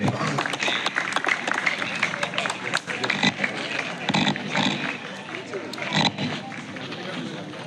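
A crowd at a Sankranti rangoli competition prize ceremony applauds a winner, with dense, fairly loud clapping mixed with voices talking throughout.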